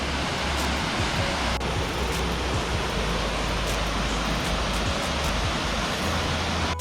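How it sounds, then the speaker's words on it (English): Steady roar of a waterfall at Old Stone Fort State Archaeological Park in Manchester, Tennessee, loud and continuous, a dense rushing hiss with a low rumble underneath. "Beautiful waterfall."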